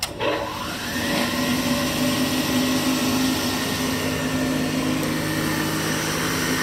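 A Cincinnati No. 2 tool and cutter grinder with a 1/2 HP motor and belt-driven spindle, switched on and spinning up into a steady, close whirring hum with a high whine that holds throughout.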